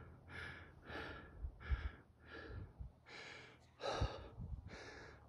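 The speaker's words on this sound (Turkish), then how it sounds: "Nefes nefese kaldım." A person who is out of breath after climbing at an ancient site with caves breathes heavily, about seven loud, rhythmic breaths close to the microphone, with no speech.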